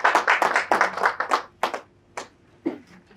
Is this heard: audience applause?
yes